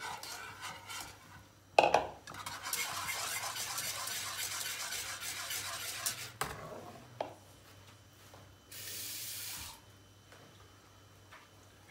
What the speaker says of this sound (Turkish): Karıştıra karıştıra.